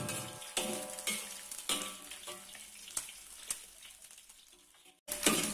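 Egg scrambled in hot oil in a pan for fried rice vermicelli, a steady sizzle and frying crackle with repeated sharp spatula scrapes and stirs roughly every second, close and fairly quiet.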